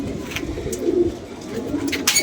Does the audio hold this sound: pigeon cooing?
yes